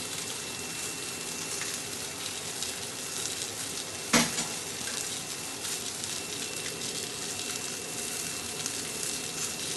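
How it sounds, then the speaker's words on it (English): Warm milk poured into a simmering braise of beef with red wine, mushrooms and onions, a steady close sizzle and bubbling throughout with one brief louder splash near the middle, no talk. "We're going to add that warm milk."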